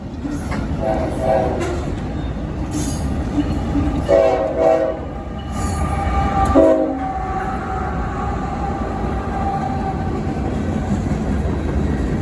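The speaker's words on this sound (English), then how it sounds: "a northbound CSX manifest freight headed up the track closest to me" A northbound CSX manifest freight train rumbles steadily past close by on the nearest track, with short horn blasts early on over the continuous rolling noise.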